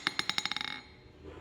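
A hammer dropped onto an anvil made from a forklift fork bounces with quick, accelerating metallic clinks that ring bright and then die away, close and fairly quiet.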